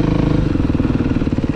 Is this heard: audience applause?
no